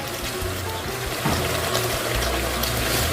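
Water splashes steadily into a pot of duck being cooked as Filipino adobo, a continuous close trickle and pour with a bubbly, liquid texture and no talking.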